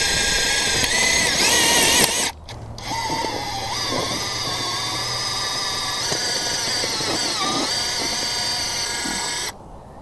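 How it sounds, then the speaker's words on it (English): A powerful stud and joist drill whirs continuously, its motor pitch rising and dipping as it bores, starting abruptly and cutting off near the end. "This is a joist drill."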